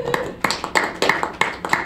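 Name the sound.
council meeting audience applauding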